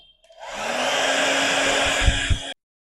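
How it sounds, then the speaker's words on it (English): A Vega hair dryer roars steadily at close range for about two seconds, then clicks off abruptly, with a couple of soft thumps near the end. "Just gonna blow dry using my Vega blow dryer."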